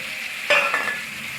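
Boiled, oil-fried bottle gourd drops into a hot pan and breaks into a sudden loud sizzle that keeps crackling steadily, with no voices.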